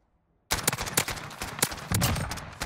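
Rapid gunfire in a first-person shooter match in Search and Destroy mode, bursts of sharp close shots starting abruptly after a brief silence and continuing in an uneven rattling sequence.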